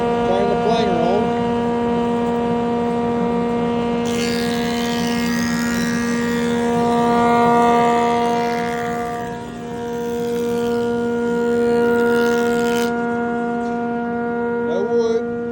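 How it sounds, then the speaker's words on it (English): A wood planer spins up alongside its blower motor pulling air, a steady loud mechanical hum with strong tonal whine that swells into a louder rushing stretch in the middle, then eases back to the drone. "Turn the planer on."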